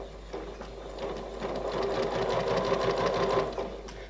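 A sewing machine whirs close by in a continuous run of rapid stitching, steady and moderately loud with no talking.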